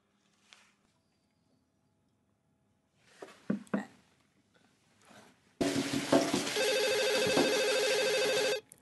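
A telephone in a TV newsroom rings loudly and steadily for about three seconds, a sustained electronic trill that follows scattered quieter bumps and movement.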